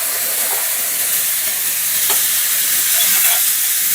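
Two tablespoons of loose curry powder fry in hot oil as it is stirred, giving a steady loud sizzle and hiss with a few faint scraping stirs.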